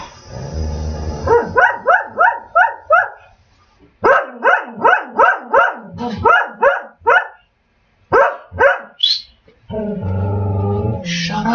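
A female dog barks loudly and close in rapid repeated volleys, several barks per burst separated by short pauses, with a rough growling tone at the start and end.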